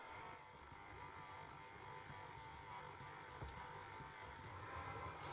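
A KitchenAid stand mixer kneads white bread dough on slow speed, producing a faint, steady motor hum with a low churning texture that holds evenly from start to finish.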